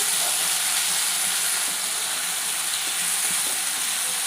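Tomatoes frying in oil in a pan for a mint peanut chutney, a continuous loud hissing sizzle held close and steady throughout, with no voices.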